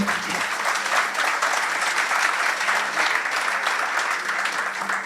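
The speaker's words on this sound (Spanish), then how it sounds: "Un fuerte aplauso, por favor." Applause fills a room after a talk at an international mechatronics congress, many hands clapping in a dense, even roar that sustains at full strength for about five seconds without pause.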